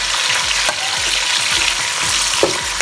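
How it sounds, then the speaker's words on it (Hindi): Roughly chopped onion fries in hot oil with cumin for a potato and egg curry. It gives a steady close sizzle with faint stirring scrapes and no speech. "इसमें 1 प्याज मैंने बड़े साइज़ की ले ली, इसको रफली चॉप कर दिया। ये हम इसमें डाल देंगे।"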